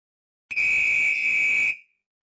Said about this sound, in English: The whistle shrilled.